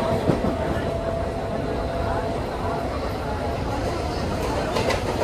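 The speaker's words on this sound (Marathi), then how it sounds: "फायनली 20 मिनिटांनी आमची ट्रेन आली आहे" A local train pulls into a busy station platform, its wheels rumbling and clattering over the rails in a loud, steady roar with brief screeches, while passengers talk nearby.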